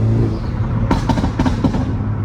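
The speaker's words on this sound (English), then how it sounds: "I'm gonna go for a little shift here and just let off, like, watch for the downshift now" A tuned Hyundai Elantra N at 370 whp, its exhaust droning then crackling and popping in several sharp bursts as the driver lifts off for a downshift, loud and close.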